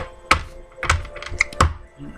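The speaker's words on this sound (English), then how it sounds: "I'm going to shuffle this one more time." Tarot cards are shuffled in a few sharp, dry riffling bursts with a soft thunk, close and fairly loud, spaced unevenly over about two seconds.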